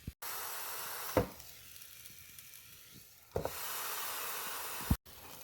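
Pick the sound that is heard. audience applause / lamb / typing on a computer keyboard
lamb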